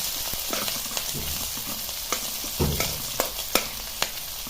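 A garlic and green chilli tempering for a fenugreek-leaf dish sizzles loudly in a pan while being stirred. The steady frying hiss is punctuated by scraping and clicking of the spoon, with no one talking.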